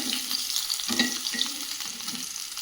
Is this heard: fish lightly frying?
yes